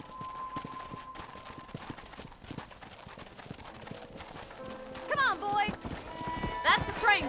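Horse hooves clip-clop steadily in Red Dead Redemption, a brisk, even rhythm of hoofbeats on the ground with other game sounds and faint voices mixed in.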